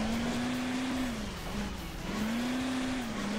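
A steady engine drone from Hill Climb Racing 2, rising and falling in pitch as the throttle is worked, loud and continuous throughout with no talking.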